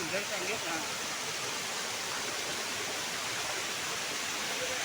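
A small waterfall in the forest on Mama Bhanja hill in Thane gives a constant, dense rushing roar, close and unbroken for the whole stretch.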